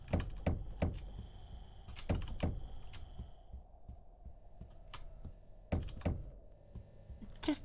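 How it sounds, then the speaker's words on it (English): Heavy thuds of knocking on doors in a spooky video game, delivered in quick clusters of three or four blows separated by pauses, over a low steady hum with no talk. "Just the morning routine of banging on everyone's doors."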